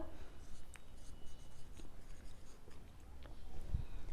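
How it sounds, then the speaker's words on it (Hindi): Pen moving on paper during a math lesson: steady soft scratching with small tapping marks, faint and close, heard alone without talk. "यहाँ पे हम लिखेंगे"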